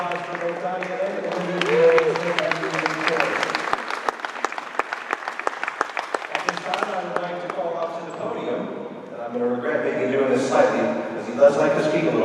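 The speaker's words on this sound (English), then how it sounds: "One more time, let's give a round of applause for both Nadia and Olivia." Applause at a school athletics signing day ceremony: a crowd claps in a steady patter for several seconds, with a voice talking over it and some background music and room noise.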